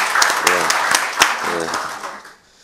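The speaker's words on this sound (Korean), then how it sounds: "박수 한번 쳐드리죠" Audience at a policy forum on a joint funeral facility claps in a brief scattered round of applause, moderately close, mixed with voices and fading out.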